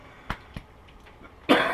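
Two short, sharp coughs close by, spaced a quarter second apart, followed after a pause by a louder burst of noise.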